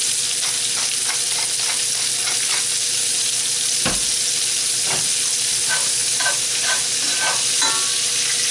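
Scallops and onions sizzling in a pan of bacon fat while being stirred: a loud, continuous frying hiss dotted with clicks and scrapes from the utensil.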